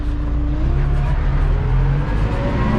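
A short farm tractor hitched to a rear plough hauls manure, its engine droning steadily and loudly close by with a constant low hum and no break.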